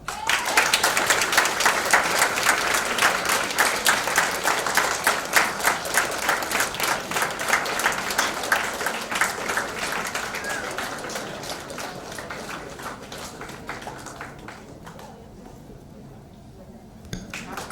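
An audience at a state-level student conference claps for the best paper presenter, a dense, even round of applause that holds steady, then thins and fades toward the end.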